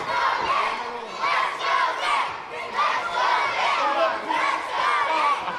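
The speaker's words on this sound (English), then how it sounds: "And listen to these fans in Abington." Wrestling fans in a packed venue in Abington, Massachusetts, roar and yell in a steady, loud, close-up crowd din that swells and surges with shouting throughout.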